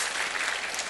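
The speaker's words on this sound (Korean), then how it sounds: "그것도 한번 박수 칠까요?" Pastors at a church seminar give a short, dense burst of applause, an even wash of clapping lasting under a second.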